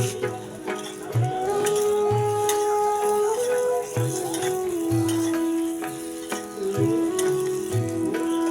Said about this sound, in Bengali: পায়েসের জন্য আমি কাজু আর কিশমিশ ভেজে নেব।